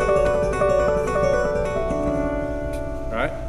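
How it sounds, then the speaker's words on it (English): Cascading harmonics ring out on a stringed instrument as a shimmering series of bell-like overlapping tones, closely played and sustaining together, ending with a brief bending note. "in order to get these kind of cascading harmonics, which sound like this"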